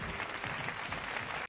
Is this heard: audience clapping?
yes